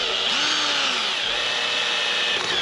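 Power drill boring a pilot hole straight into aluminium, a steady, close, continuous whine and grind held for the full length without pause.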